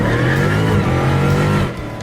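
A 2015 Dodge Hellcat with a 6.2-liter supercharged Hemi runs loud and close, its deep, harmonic engine note holding steady and then easing off slightly at the end.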